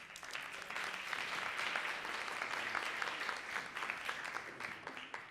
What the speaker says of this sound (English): Please join me in welcoming him with an applause.